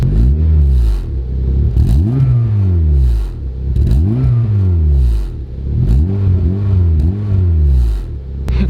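A car engine revved repeatedly outside, several rising and falling vroom sweeps in quick succession, loud and close, with faint clatter between pulses.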